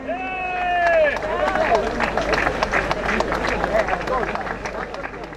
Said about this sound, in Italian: Applauso per lui.